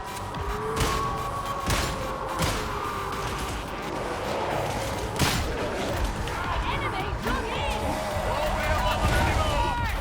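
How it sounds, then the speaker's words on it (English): Gunfire in the Warhammer 40k: Darktide game, scattered shots and impacts within a dense, busy battle mix of crashes and running, with voices talking over the action throughout. "I'm just shooting the front"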